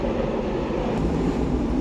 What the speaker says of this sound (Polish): Ale hałasuje ten pociąg.